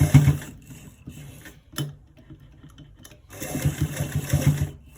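A sewing machine stitches an inner front pocket in short bursts, whirring quickly for a moment, pausing, then running again in a longer burst, close and fairly quiet.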